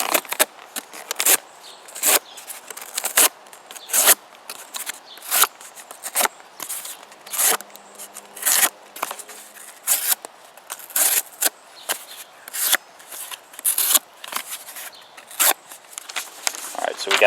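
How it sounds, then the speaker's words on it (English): A CRKT Hammond Cruiser folding knife slices through cardboard in a series of sharp, crackling cuts and scrapes, repeated at an uneven pace for several seconds, close up. "Alright, so we'll cut through some cardboard here."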